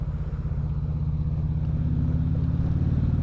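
Road traffic near University of North Carolina student housing, heard from a moving motorcycle, is masked by a loud, steady low engine drone and wind rumble, close and continuous, with no talk.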